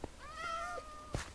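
A cat in the Minecraft video game gives one clear, close meow, followed by a short knock.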